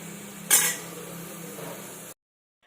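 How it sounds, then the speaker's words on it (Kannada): Rice is stirred into Maggi masala in a pan, a sharp scrape of a spoon against metal followed by a steady soft hiss of cooking that cuts off abruptly. "ಇದಕ್ಕೆ ರೈಸನ್ನು ಹಾಕಿ ಕೈ ಆಡ್ಕೊಂಡ್ಬಿಡೋಣ"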